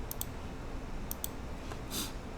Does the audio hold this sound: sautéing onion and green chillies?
no